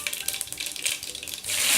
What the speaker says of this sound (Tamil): கடுகு பொரிஞ்ச உடனே